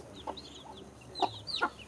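A hen on a small farm in Mexico gives a few short, separate clucks at close range, with quieter farmyard sounds around them and no talking.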